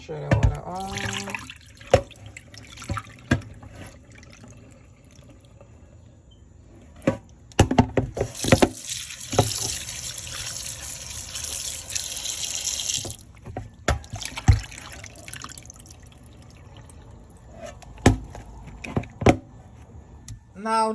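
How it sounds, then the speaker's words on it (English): Water is poured over raw fish that has been washed with vinegar at a home kitchen sink, with intermittent splashing, running water and light clattering handling sounds. "Throw the water on."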